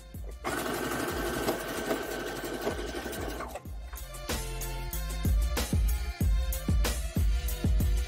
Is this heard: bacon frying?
no